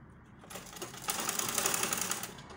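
A sewing machine runs in a short, quick burst of stitching on a baby girl's halter-neck dress with a peplum, close and fairly quiet.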